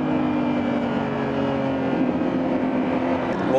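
Engine of a 1015 hp Lamborghini Revuelto driven in Corsa mode, a steady, loud droning hum with a constant pitch and no pauses.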